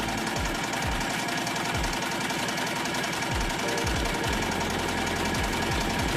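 An embroidery machine stitches a patch onto a garment with a fast, steady mechanical chatter and repeating low thumps over a continuous motor hum, close and unbroken.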